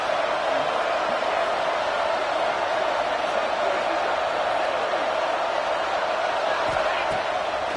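Steady, dense roar of a stadium crowd at an early-game American football matchup in the Madden football video game, loud and continuous with a broad wash of cheering and no distinct individual events.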